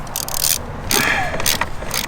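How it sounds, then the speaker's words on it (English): Short bursts of mechanical clicking and scraping from a ratchet loosening small number 8 bolts on a Jeep Wrangler 2.0, close up, in quick separate strokes with pauses between. "now you'll take these 3 little bolts off of here"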